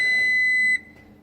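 A kitchen timer gives a single sharp, high-pitched electronic beep that cuts off abruptly, leaving quiet room tone.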